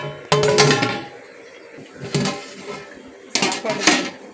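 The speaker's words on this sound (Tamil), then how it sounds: "அது வரைக்கும் நம்ம தட்டு மூடி வைக்கலாம்." A plate set as a lid over a simmering pot of mutton biryani makes three distinct metallic clanks spread over about four seconds, with quieter kitchen rattles in between.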